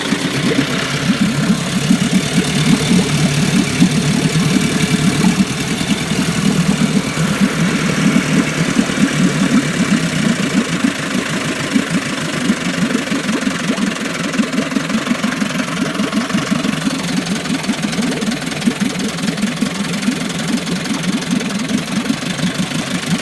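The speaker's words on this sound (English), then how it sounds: "Let's fire this up and check it out." A 1958 Firestone (Scott Atwater) 5hp outboard motor running in a test tank: a steady, loud, buzzing engine drone with a fast, even putter that holds constant throughout, with no voices.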